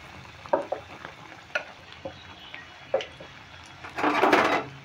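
Capsicum chops fry in oil with a soft, continuous sizzle. Several sharp spatula taps punctuate it, and a louder burst of bubbling hiss rises near the end.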